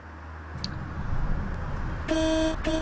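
A bus horn in the OMSI bus simulator game, on a Setra S215UL, honks twice near the end, a sustained buzzy tone then a short second blast, following a low engine rumble.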